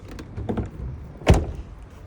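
Cab door on the passenger side of a Rapido 927F motorhome shutting with a single solid thunk, preceded by faint handling clatter, close by and with no talk.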